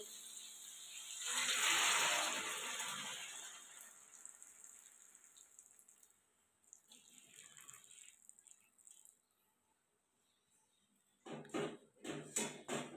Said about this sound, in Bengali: তো দেখো জলটা আমি দিয়ে দিলাম, দিয়ে একটু নাড়াচাড়া করে নেব।